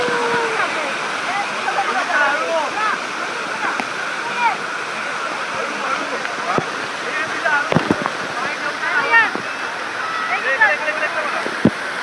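A hidden monsoon waterfall at Matheran roars as a loud, unbroken wash of rushing water. Voices and occasional splashes and knocks rise faintly above it.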